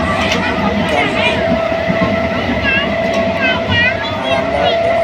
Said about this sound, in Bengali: আর আমরা এখন ওই ট্রেনেই আছি